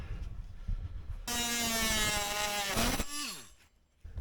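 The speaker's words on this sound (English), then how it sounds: "The other thing I'm going to try is this oscillating tool. It's got a metal blade on it" An oscillating multi-tool fitted with a metal blade works rusty sheet metal on a Jeep, a loud steady buzzing whine lasting a couple of seconds with a changing pitch, then winding down as it stops.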